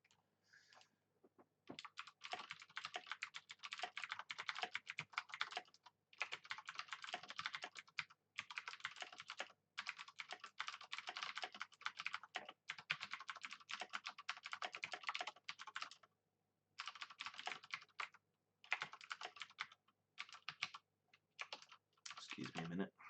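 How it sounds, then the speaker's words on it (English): Fast typing on a computer keyboard clatters in bursts of rapid key clicks with short pauses between runs, close and steady, faint in overall level. "typing's louder now"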